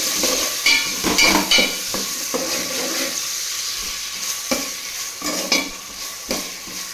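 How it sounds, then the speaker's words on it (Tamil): Tomato being sautéed in a pan for a fish curry, with intermittent stirring and scraping over a steady background hiss of frying, fairly close and clear, no voices. "இப்போ இதை நல்லா வதக்கி விட்டுக்கலாம்."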